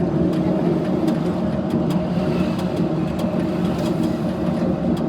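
Cars driving past fast on a road, a steady, loud rumble of traffic with no clear gaps, close by and continuous throughout.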